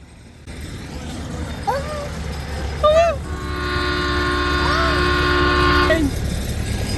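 A train horn sounding near Nehru Zoo in Hyderabad, a long sustained blast in the middle, with brief whistle-like chirps before it and a voice calling over it, all above a steady rumble of rail traffic.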